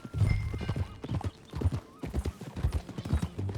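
Horse hooves clip-clop steadily on the ground in the Red Dead Redemption 2 video game, a close rhythmic trotting beat with a brief whinny-like texture and low rumble underneath.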